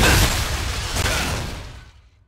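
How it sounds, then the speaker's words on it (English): A bomb goes off in the fantasy action game Vindictus, a loud broadband blast that hits at once and then rumbles and fades over about two seconds. "Throw some bombs at those"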